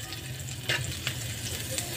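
Garlic and onion sautéing in a pan, a continuous close sizzle with a low hum underneath and a few brief louder bursts of crackle.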